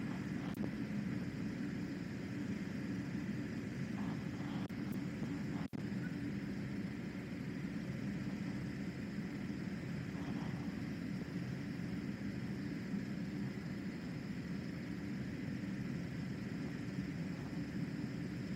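A light aircraft descends on a glide approach with the power untouched, a steady close cabin drone and airflow hiss holding level throughout, broken by a single faint click.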